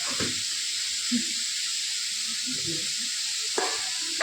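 Food frying in a pan for chow mein gives a steady, close hiss of sizzling oil, with a few soft knocks and scrapes of stirring at intervals.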